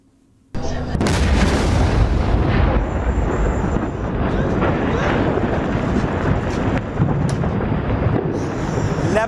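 A sudden massive blast erupts as an Israeli airstrike levels a village in Lebanon, a single loud detonation giving way to a sustained heavy roar and rumble of collapsing debris lasting several seconds, with no talking.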